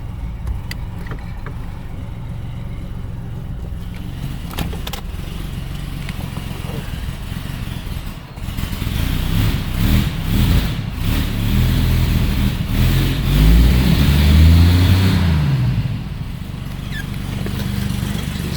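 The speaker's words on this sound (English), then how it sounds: "just gotta warm up a little bit, and man, it runs good" A 1947 Chevrolet engine warms up and runs with a steady low rumble, growing louder partway through as it settles into a strong idle close to the listener.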